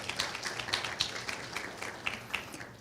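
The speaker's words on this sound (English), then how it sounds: "another round of applause for her, please." Scattered audience clapping at an African innovation festival, fairly faint, with a few distinct sharp claps over a thin wash of applause.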